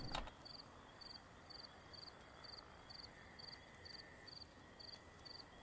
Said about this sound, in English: Also like that the ambient noises change to the I've got crickets playing